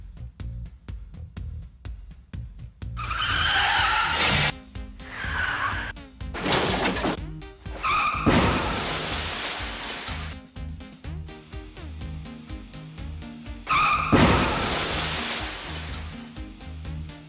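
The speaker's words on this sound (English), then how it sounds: "The next thing the director needs is the sound of a traffic accident." A staged traffic accident effect for a theatre scene, with several loud crashing, shattering bursts and smashing debris rising over a busy, noisy background across the sequence.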